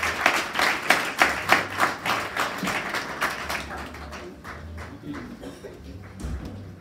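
A church congregation claps together in a rhythmic burst of applause that fades after a few seconds into scattered murmurs and faint room noise.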